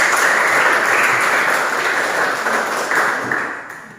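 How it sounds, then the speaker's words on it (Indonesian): A school classroom of students claps together, a dense burst of many small hands that holds steady and then tapers off toward the end, with faint voices underneath. "Tepuk tangan untuk kita semua."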